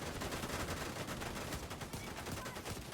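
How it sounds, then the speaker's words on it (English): Heavy concentrated gunfire in a Division-style shooter set in DC, a dense, continuous barrage of overlapping shots and automatic bursts filling the whole three seconds at close range. "that is a lot of concentrated fire on me"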